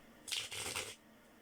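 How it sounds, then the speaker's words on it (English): A deck of cards is shuffled in one quick riffle, a crisp ruffling burst lasting under a second, close and clear in an otherwise quiet room. "I've never had a shuffle session like this one."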